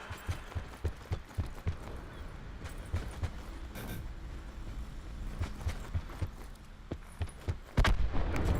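Call of Duty Blackout battle royale match with gunfire cracking in a rapid, uneven string of shots over constant background game noise, ending in a louder nearby blast.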